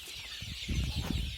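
Young country chicks, about twenty days old, cheep and cluck inside a shed. The chatter is busy and overlapping, with wing flutters and scuffling, close by and fairly loud throughout.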